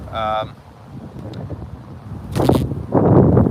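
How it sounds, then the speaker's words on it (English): Low rumbling wind buffets the microphone in uneven gusts, growing stronger toward the end, with a brief tonal voice at the start. "It's getting windy out here."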